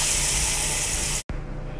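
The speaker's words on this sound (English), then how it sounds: "you just add olive oil to it, and you just give a good spray in your pan" Olive oil sprayed into a pan from a Misto pump sprayer, a close steady hiss of spray cut by a brief gap, then a softer spray, with no talk.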